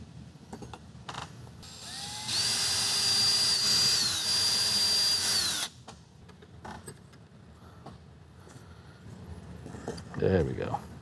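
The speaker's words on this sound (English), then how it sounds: "Time to drill those out." A power drill boring out parts for a potato cannon, one sustained whirring burst of about three seconds that spins up and holds a steady high whine before stopping, followed by quieter handling clatter.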